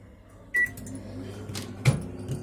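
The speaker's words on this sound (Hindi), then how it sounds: "अब हम ये माइक्रोवेव स्टार्ट करेंगे और माइक्रोवेव मोड फुल वॉट पे सिलेक्ट करेंगे" A microwave oven set to full power hums steadily, with a short beep and a click or clunk as it is started, no talking.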